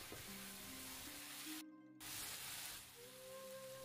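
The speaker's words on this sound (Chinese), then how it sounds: "刨好的红萝卜丝倒进来， 翻炒2分钟" Shredded carrots stir-fried in a wok with oyster sauce and soy sauce, giving a steady low sizzle with tonal kitchen hum that breaks off briefly mid-way and then resumes.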